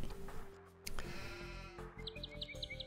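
Sheep bleat in a real-time strategy game match, a short wavering bleat over game sounds and faint clicks, ending in a quick run of high chirping tones.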